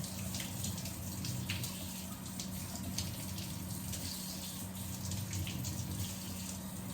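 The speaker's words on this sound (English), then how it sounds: "I'm going to trickle some hot water into this bucket" Hot water runs from a sink tap into a bucket in a steady, close, continuous splashing stream, with no talking.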